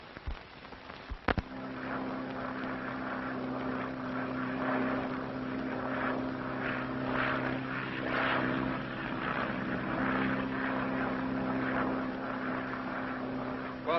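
A propeller airplane engine drones steadily and loudly for the whole stretch, with a steady low hum, after a couple of sharp clicks right at the start; set around a hangar in the 1930s, with no talk.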